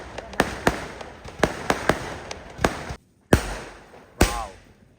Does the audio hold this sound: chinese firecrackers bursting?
yes